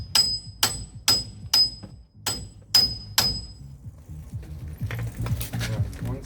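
A hammer strikes a chisel on a VW Caddy mk3 wheel bearing in seven sharp, ringing metallic blows at a steady pace, then fainter scraping and tapping follow.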